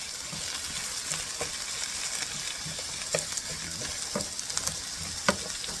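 Pork chop ingredients caramelizing in a pan, a steady close sizzle with scattered crackles and a few sharper pops, continuous throughout with no talk.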